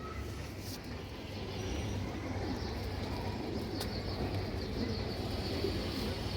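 Pigeons coo steadily among a flock in a pigeon market setting, a dense continuous murmur of calls with faint traffic behind and no clear talk.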